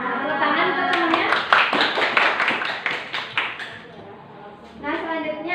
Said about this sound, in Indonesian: Tepuk tangan untuk temannya.